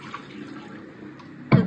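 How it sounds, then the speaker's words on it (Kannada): Water is poured into cashew paste during home cooking, a steady soft rushing stream that ends in a louder, brief splash. "ತಕ್ಕಷ್ಟು ನೀರು"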